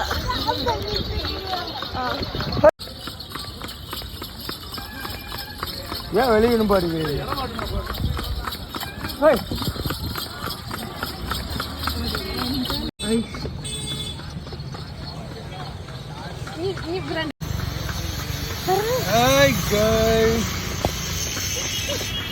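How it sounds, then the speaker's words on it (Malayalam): Horse hooves clip-clop at a steady trot as a horse cart rolls along toward Palani, heard under continuous nearby talk and background chatter. "ഞങ്ങൾ കുതിരവണ്ടിയിലാണ് കയറിയത്"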